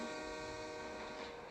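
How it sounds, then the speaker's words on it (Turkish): A train in PUBG's Erangel map rumbles past in a loud, steady drone with a tonal, horn-like hum, heard up close and alone for a short moment. "Bak o tren bu tarafa gidiyor bu tren bu tarafa gidiyor."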